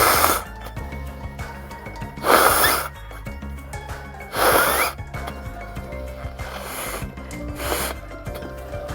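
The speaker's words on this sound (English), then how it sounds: "I need to blow my nose." A person blows their nose in three or four forceful bursts spaced a couple of seconds apart, each a short, breathy, honking gust, with quieter sniffing and rustling between them.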